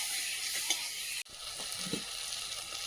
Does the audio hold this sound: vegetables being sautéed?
yes